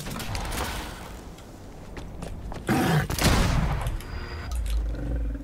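Bursts of rapid gunfire crackle through a busy Dead Island 2 zombie game soundscape, with a loud volley in the middle and mechanical clatter around it.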